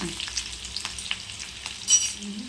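Green chillies frying in a home kitchen pan, a steady close crackle and sizzle with occasional stirring scrapes and a brief louder burst, no talk.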